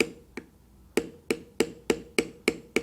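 Metal beveling tool struck against carved leather around the edges of small feathers in a mallard duck carving, giving about nine sharp, close taps in a steady, slightly uneven rhythm with quiet gaps between.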